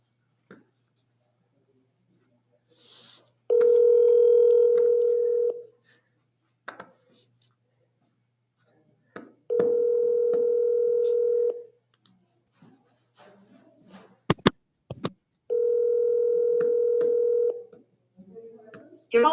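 An outgoing phone call rings three times, each long, steady electronic ring tone separated by a few seconds of quiet with faint clicks and rustling between them.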